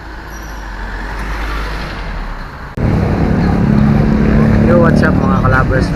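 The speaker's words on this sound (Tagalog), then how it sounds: "traffic ata." Street traffic, a steady roadway rumble of passing vehicles that jumps suddenly louder midway, with what sounds like a faint voice and a horn-like tone in the busier second half.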